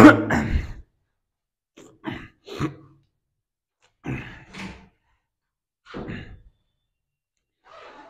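A man coughing and clearing his throat in short, separate bursts with silent gaps between them, close and dry, during a Hindi geography lesson.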